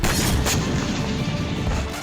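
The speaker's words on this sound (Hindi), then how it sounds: "ये यूक्रेन का चैलेंजर टैंक है जिस पर रूस ने ड्रोन से बम गिराया" A bomb dropped from a drone strikes a Ukrainian Challenger tank in a war zone, producing a sharp crashing blast followed by a rough, noisy rumble that fades over about two seconds; no voices.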